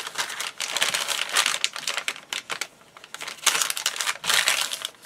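A bag is folded up for a homemade journal: close, loud crinkling and crumpling comes in uneven bursts with short pauses, with no voices.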